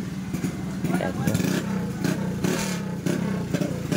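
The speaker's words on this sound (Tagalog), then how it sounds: "hinahatak ni Tropa yung motor niya, oh. Para mag-start yata" Drag race motorcycle being started and revved at a Philippine drag race, with loud repeated engine bursts and clattering revs, and people talking over it.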